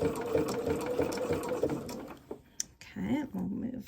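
Sewing machine zigzag-stitching elastic down a seam on baby booties, whirring steadily and close for about two seconds, then stopping briefly before a short restart.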